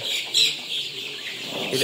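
Clucking and chirping from Sonali chickens being raised on a small farm, carried on a soft high-pitched noise, with a slightly louder call near the start and another at the end.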